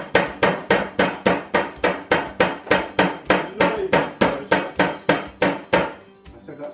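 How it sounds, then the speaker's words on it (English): A meat hammer pounds chicken breast wrapped in cling film, about eighteen loud, close, evenly paced thuds in a fast steady rhythm before stopping. "if you haven't got a meat hammer, don't use the metal end, use the flat end, otherwise you'll tear the cling film"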